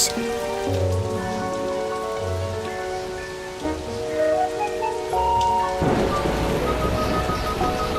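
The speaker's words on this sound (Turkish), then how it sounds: "Bugün çok yağmurlu bir gün." Steady rain patters on a surface, with a tonal melody woven through it and the downpour growing heavier toward the end.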